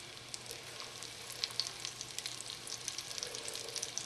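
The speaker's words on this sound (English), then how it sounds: "drop these chunks of turtle meat that have been breaded with Andy's Cajun fish breading" Breaded chunks of snapping turtle meat coated in Cajun fish breading sizzle in hot bacon grease, a steady crackling fry dotted with sharp pops, moderately close and with no talking.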